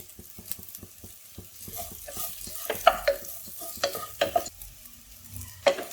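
Rice sautéed and stirred in a pan while making prawn biryani, giving an irregular run of spoon scrapes and clicks over a soft, low sizzle, fairly quiet and close, with no talking.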